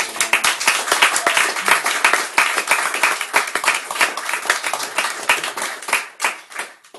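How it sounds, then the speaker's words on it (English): An audience at a university MFA poetry reading claps enthusiastically after a reader finishes, dense steady applause that tapers off near the end. "How about one more round of applause?"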